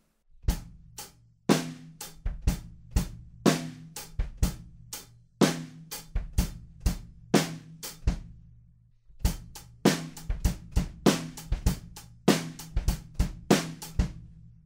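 A steady drum kit groove for a song verse with thumping kick drums and crisp snare and cymbal hits in a repeating pattern, played loud and close with a brief pause midway.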